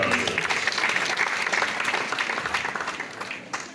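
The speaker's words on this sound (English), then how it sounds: "I think we ought to clap and congratulate ourselves." Graduation ceremony audience at Uganda Martyrs University in Nkozi, Mpigi District, breaking into broad, steady applause that gradually thins toward the end.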